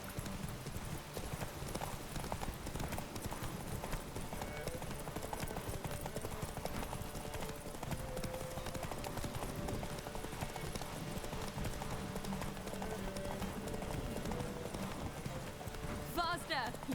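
Hooves clip-clop in a fast, steady rhythm as a horse gallops in the video game The Witcher 3, loud throughout with voices talking over it.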